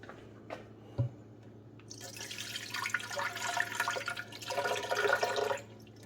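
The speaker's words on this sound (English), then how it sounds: "we're going to add 8 ounces of orange juice" Kirkland orange juice pours into a blender, a soft liquid splashing and gurgling that builds over a few seconds after a faint tap, fairly quiet throughout.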